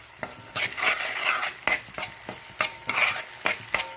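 Bachhali kura pachhadi ingredients fry and sizzle in oil in a pan, with a spoon repeatedly stirring and scraping in sharp, close clatters.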